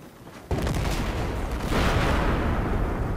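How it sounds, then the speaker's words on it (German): Tank exploding in Battlefield 4 in Shanghai: a sudden loud blast breaks in, followed by sustained roaring, crackling battle noise with gunfire and rumbling, no voices. "Ich glaube, einer ist gerade explodiert."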